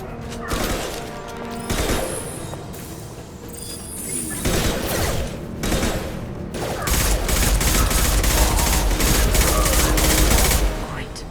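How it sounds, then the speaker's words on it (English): Impact shot weapon fire from the Mass Effect game during a fight on Omega, heard as a chaotic run of loud shots, bursts and crashes building into a dense, sustained barrage by the end, with speech mixed in. "Firing an impact shot!"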